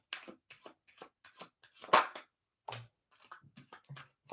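Oracle cards are shuffled by hand in a series of crisp, rapid riffling bursts and slaps, close and fairly loud, with brief pauses between them and no talking.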